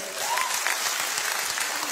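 Audience applause at a solidarity gala comedy show, a steady wash of many hands clapping that fills the whole two seconds at an even, moderate level with no voices standing out.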